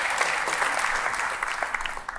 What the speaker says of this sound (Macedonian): Ајде, дајте аплауз за сите.